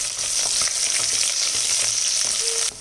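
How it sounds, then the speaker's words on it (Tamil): Green chillies and sliced onion sauté in a hot pan for a vegetable stew, a close, bright continuous sizzle broken by soft scraping stirs, ending with a sudden drop in the frying hiss. "இது எல்லாத்தையும் நல்லா வதக்கி விட்டுறேன்"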